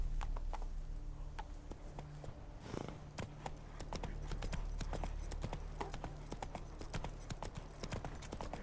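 Roach, the horse in The Witcher 3, trots with steady, rhythmic clip-clopping hooves that stay close and fairly loud throughout, over a low game ambience.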